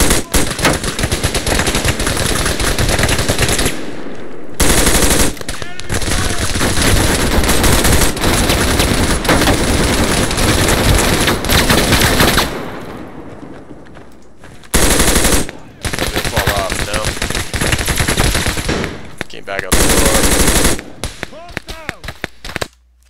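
Loud automatic gunfire in a military combat video game, rapid machine-gun bursts near and dense, broken by brief pauses, with a voice faintly under the shooting.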